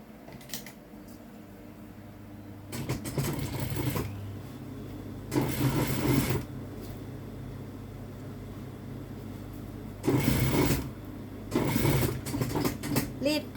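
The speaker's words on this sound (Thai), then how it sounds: "เราก็เอาไปพับเย็บ ชายเหมือนเดิม พับเย็บชายปกติ" A sewing machine stitches a folded trouser hem in several short bursts of a few seconds each, separated by pauses, over a low steady background hum.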